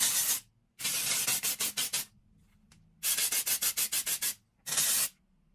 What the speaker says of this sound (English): Now we're gonna spray everything with our texture spray.